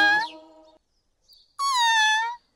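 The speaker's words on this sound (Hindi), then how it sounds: "वो बिल्ली की आवाज थी ना?" A cat meows twice, close by, with a short quiet gap between the two calls.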